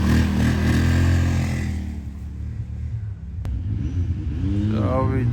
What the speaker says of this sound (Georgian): შემდეგი ესეთ პოლარისი 1000-იანი. წავიდა.